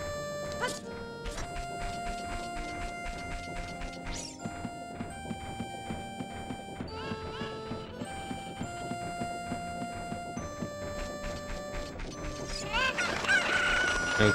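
Chicken clucking and crowing in The Legend of Zelda: Ocarina of Time, set against bright tonal game music with chiming effects that run through the whole stretch, while someone talks quietly at times over the top.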